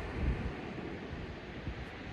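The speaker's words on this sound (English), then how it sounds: "every now and again, when I go out to wind in or whatever, that wind gets you and it's pretty nippy" Steady wind buffeting the microphone on Chesil Beach during a cold night of sea fishing for conger eels by the landing craft, a continuous low rumbling roar with slight gusts and no talking.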